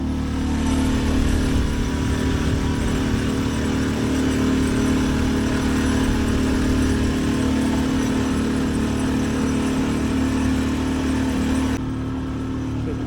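A sailboat motors under engine power in very light wind along the coast between Atlantic City and Cape May. Its engine drones steadily and loudly with an even low rumble, easing slightly near the end.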